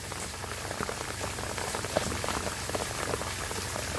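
Monsoon rain falls steadily in a village, dense drops pattering on surfaces close by, with runoff water rushing, continuous and without voices.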